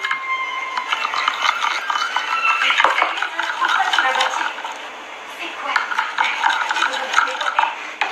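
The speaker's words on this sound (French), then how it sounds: "Ok, je vais touiller maintenant." Blue homemade slime is stirred in a container, giving a close, uneven run of wet squelching and scraping strokes with small clinks.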